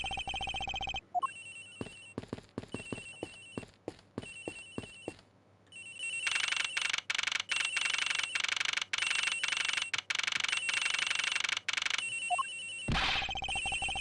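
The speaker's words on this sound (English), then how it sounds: "Sounds like the phone is up in the flight attendant's room." A mobile phone rings in the Ace Attorney Investigations video game, a repeated electronic trill in bursts that turns into a sustained, louder ring in the second half and then stops abruptly.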